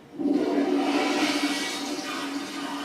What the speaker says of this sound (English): That, my friends, is a roof toilet.